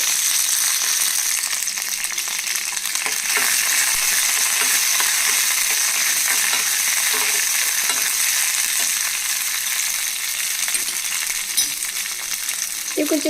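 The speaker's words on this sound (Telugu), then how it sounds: "ఆయిల్ వేడైన తర్వాత నాలుగు పచ్చిమిరపకాయలు అలా తుంచేసి వేసుకోవాలి" Torn green chillies fry in hot oil in a kadai, a loud, close, continuous sizzle with scattered crackles and light pops throughout, no talk.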